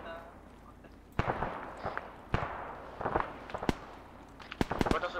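Sharp, scattered gunshots ring out in an Arma 3 clan mission firefight: isolated cracks and short bursts at irregular intervals, some close and loud, others fainter, over a low background rumble.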